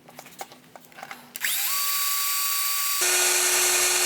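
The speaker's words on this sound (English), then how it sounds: "I'm going to start again with the smaller bit and drill them out." A power drill with a small bit bores holes for a dash mount in a Gen2 Raptor, short bursts giving way to a loud, sustained high whine that shifts pitch as the bit cuts through.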